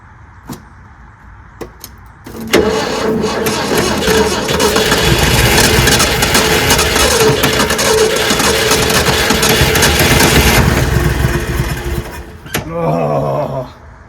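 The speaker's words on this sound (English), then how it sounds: "I'd like to see if I can get this thing to fire up." A Ford F-100 truck neglected for 25 years cranks briefly, then its engine catches and roars loudly into a rough, steady idle before cutting off, with a short burst of revving near the end.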